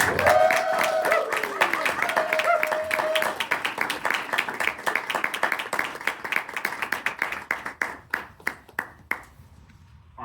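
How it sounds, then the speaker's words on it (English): A toastmasters audience in Brooklyn claps hard and steadily, with shouts and whoops rising over the applause early on; the clapping thins into scattered, slower claps before fading out. "Clap as hard as you can. You can shout too as we introduce Marc Williams."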